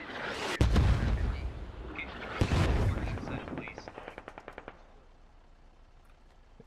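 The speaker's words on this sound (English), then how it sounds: "Here comes mortars." Incoming mortar fire in a military video game: a couple of heavy blasts with rolling rumble, followed by a rapid run of sharp gunfire cracks that thin out and fade, with voices nearby.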